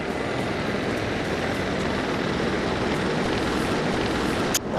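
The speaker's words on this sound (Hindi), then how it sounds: "MI-35 गनशिप हेलीकॉप्टर्स की फॉर्मेशन।" A formation of Mi-35 gunship helicopters passes overhead at a military parade, a steady loud rotor and engine roar that holds throughout before a brief sharp crackle near the end.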